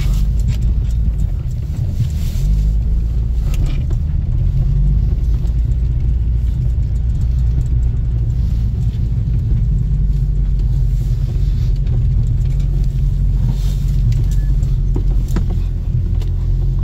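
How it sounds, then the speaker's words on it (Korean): Summer grip tires frozen in winter cold rumble steadily beneath a driving car, a loud, constant low roar with road noise and no break throughout. "타이어가 얼어서 이런 소리가"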